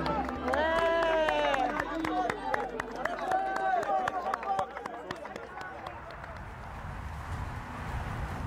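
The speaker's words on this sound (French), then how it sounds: "Vous allez applaudir tout le monde." A group of young footballers at the Clairefontaine training centre bursts into clapping and cheering, a dense, lively patter that starts loud alongside shouting voices and then thins out over the final seconds.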